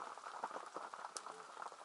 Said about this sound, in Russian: Дождь на улице пошел, такой.